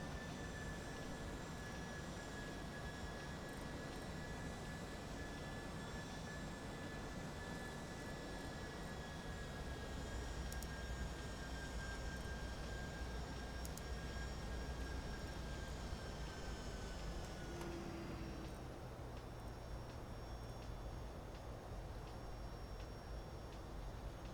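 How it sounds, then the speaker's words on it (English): A Boeing 757 engine drones in the X-Plane 11 flight simulator, a steady, quiet broadband roar with sustained high whining tones that drop and shift partway through, and no voices. "The 757 is beautiful, Robert. It's definitely one of the best ones here you can get for X-Plane"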